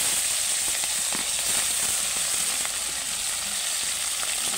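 Bhola fish frying in hot oil, a close, steady crackling sizzle with scattered pops and occasional stirring, continuous throughout with no talking.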